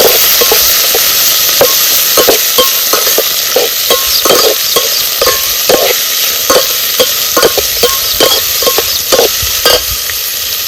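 Village-style vajri masala roasting and being stirred in a pan over an outdoor flame: a steady close sizzle broken by repeated sharp scraping stirring strokes, with no talking.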